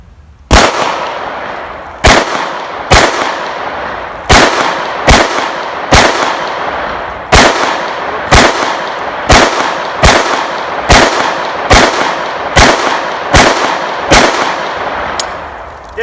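Handgun fitted with a Truglo Micro red dot sight firing about fifteen loud, sharp shots in a steady string outdoors, each with a short echoing tail.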